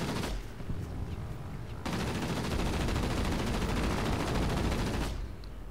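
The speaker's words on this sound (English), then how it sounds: "Excessive shooting." Dense, continuous machine gun fire from aircraft in the World of Warplanes game, a loud rapid rattling stream that starts partway in, grows heavier and holds steady almost to the end.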